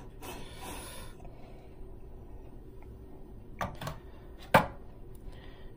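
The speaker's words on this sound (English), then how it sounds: "Got my leveler tool here. Do a nice leveling of the grinds." An espresso leveler tool turns over coffee grounds in a portafilter, giving quiet scraping and ratcheting clicks followed by a couple of sharper knocks, close and faint, with no talking.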